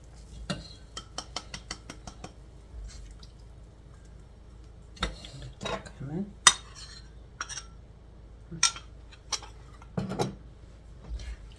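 A whisk knocks and clinks against a metal pot while stirring a cornstarch mixture with sugar for a fruit cake glaze, in irregular bursts of sharp taps with quiet gaps between them.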